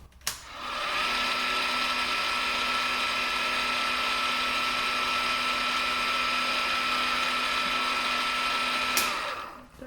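A steady, loud power-tool whine runs for about nine seconds as a drill works on a copper watch case, starting and stopping abruptly with no talk over it.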